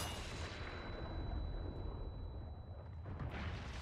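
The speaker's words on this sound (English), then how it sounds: "Okay, well, I do have a flash grenade." A flash grenade detonates in the Resident Evil 4 Remake video game, a loud sustained blast rumbling with dense low-end noise that swells and fades over several seconds, with a thin steady tone ringing above it.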